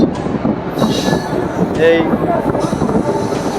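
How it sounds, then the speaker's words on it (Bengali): Train wheels rumble and clatter on rails from inside a moving train, loud and continuous, with brief metallic squeals rising and fading and a single word spoken near the start. "আমাদের ট্রেনটি এটি যাচ্ছে এগিয়ে"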